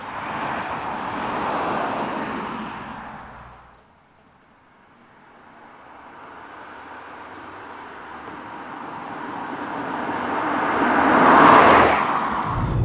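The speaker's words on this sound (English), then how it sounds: "You put your foot down and the car just accelerates so easily" A 2020 Volvo S60 T8 Twin Engine accelerating on the road, heard as a steady rising drone of engine and road noise that dips briefly, then builds back up louder toward the end.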